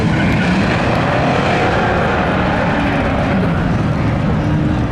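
Race cars roar at a Memorial Day spectator drag race, a loud, dense, unbroken engine rumble that fills the whole moment with no distinct voices.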